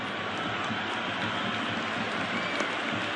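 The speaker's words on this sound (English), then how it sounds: "It's evident and ever so audible that the crowd is at near bursting point at today's play." A cricket crowd roaring and applauding during a Bangladesh batting display, a steady dense wall of cheering from a large stadium audience, loud and sustained with no clear breaks.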